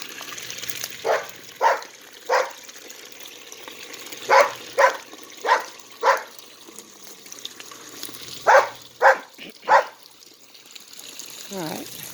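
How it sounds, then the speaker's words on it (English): A neighbor's dog barks repeatedly at a distance in a yard, sharp single barks in small irregular clusters over a steady hiss of a running lawn sprinkler. "And the neighbor's dog, Daisy, is barking her head off."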